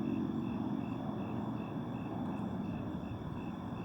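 An airplane flying overhead on an afternoon outdoors, heard as a faint, distant, steady engine drone with no clear rise or fall.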